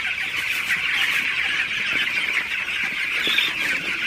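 Broiler chickens on a poultry farm, a dense flock clucking and squawking continuously at steady volume with no talk.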